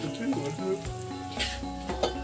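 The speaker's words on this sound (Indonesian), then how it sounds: "Tempe goreng ala anget." Tempeh frying in hot oil in a village kitchen, a steady close sizzle under tonal, music-like sounds, with brief louder crackles.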